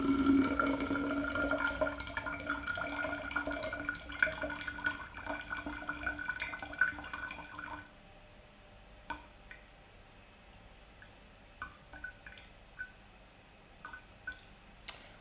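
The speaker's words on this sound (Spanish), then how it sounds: "y voy a poner 250 mililitros de agua, pesando 250 gramos." 250 millilitres of water poured from a container: a continuous close trickling stream for about eight seconds, then quiet with a few isolated drips.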